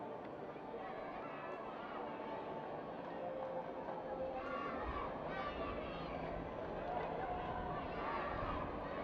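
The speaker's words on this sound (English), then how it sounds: "Crowd again doing a great job getting behind Dallas here in this first half" A stadium crowd at a women's soccer match between Dallas Trinity FC and Fort Lauderdale United FC keeps up a dense, steady roar of cheering and chanting, with a commentator's voice running over it.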